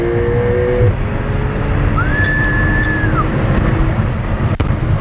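A Porsche 911 S with a sport exhaust accelerates on the Autobahn as a steady, loud engine and road roar, with one rising tonal whine midway and no speech.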